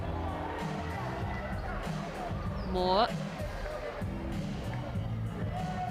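Basketball crowd during a professional NBL game between Hawkes Bay Hawks and Auckland Tuatara, a steady roar of noise from the stands with a brief rising swell, beneath a commentator speaking throughout.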